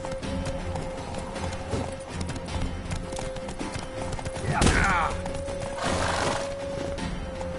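A horse's hooves clip-clop in a steady gallop during a fight in The Witcher 3, mixed with shouting voices, a sharp crash near the middle, and a whinny.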